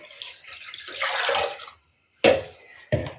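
Pickled zucchini brine from a jar streams into a saucepan in a steady, close splashing pour, stops briefly, then two short separate splashes follow, with no talk.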